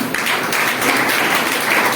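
Steady, loud applause from a seated audience at an Ayurveda business seminar, a continuous wash of clapping for about two seconds with no speech over it.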